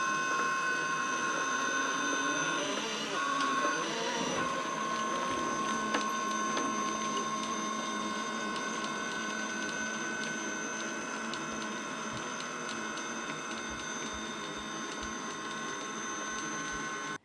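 A Traxxas TRX4 RC truck running a sensorless Castle SW4 brushless system with a 2400KV Tenshock motor gives a steady high electric whine with tonal buzzing, briefly louder with rattling at the start, then even.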